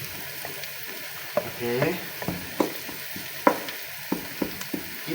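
Onion sautés in a pan, with a low sizzle under irregular scraping and clanking as it is stirred, close by. A voice speaks briefly once.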